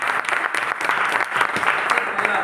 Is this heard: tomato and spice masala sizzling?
no